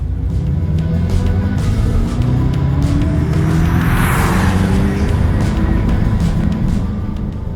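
A 2025 Dodge Charger Daytona EV accelerates at full throttle in sport mode, heard from inside as a steady low electric drive rumble with road and wind noise, loud and continuous.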